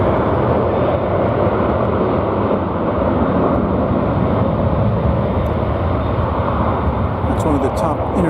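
A departing airliner at DFW Airport bound for Los Cabos gives a loud, continuous engine roar, with a voice talking over it.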